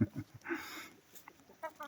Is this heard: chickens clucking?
yes